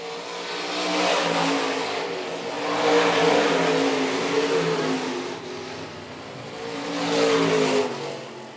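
Stock cars lapping during a main event at Phillips County Raceway, engines swelling and fading in repeated waves as the field passes, with a steady distant crowd-and-track wash between surges and no speech.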